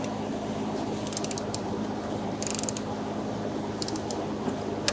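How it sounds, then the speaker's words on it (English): A ratchet wrench with a 10mm socket loosens a fuel pump bolt on a 2014-2019 Kia Soul 1.6L, close rapid clicking bursts over a low engine-bay hum, in several short spurts. "now we're going to unbolt it with a 10mm socket"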